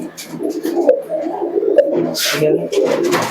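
Giribaj pigeons and their chicks coo in close, overlapping bursts, with a brief rustle of handling and light background noise.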